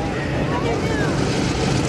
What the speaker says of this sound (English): This is the F4U Corsair, the last of the great piston engine fighters